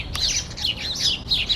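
Bird squawks and chirps in a short run of repeated, fairly close calls outdoors beside a car being worked on.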